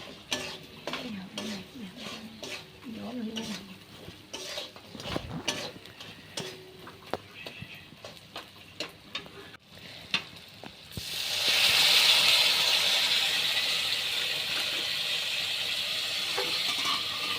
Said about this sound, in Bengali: হালকা পরিমাণ একটুখানি জল দিয়ে ভালো করে নেড়ে চেড়ে নিচ্ছি